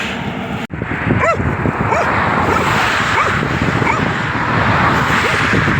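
Dogs barking repeatedly at a distance in Romania over a steady, loud roar of wind or road noise, with a brief dropout near the start.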